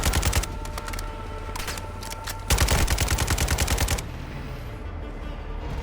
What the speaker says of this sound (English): And now, we're going to shoot at these guys.